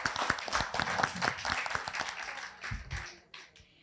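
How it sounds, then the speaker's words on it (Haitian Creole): Audience applause at a Haitian Christmas radio and TV show, a dense patter of many hands clapping steadily, then thinning and tapering off toward the end. "merci, applaudissez s'il vous plaît."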